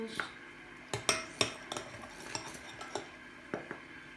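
A spoon stirring homemade slime gel in a bowl, sharp clinks and taps against the bowl in an irregular rhythm, close and fairly quiet, with soft background noise.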